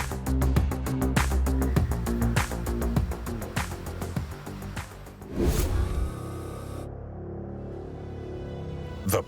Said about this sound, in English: The Taycan then sets off on its way.